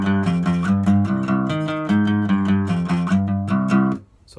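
An acoustic guitar plays two parts of a riff back to back in a steady, rhythmic run of picked notes and chords. It is close and loud with no talking, and it rings off at the end.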